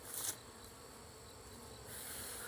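Honeybees buzz steadily during a hive inspection, a faint, continuous droning hum close to the microphone with no voices.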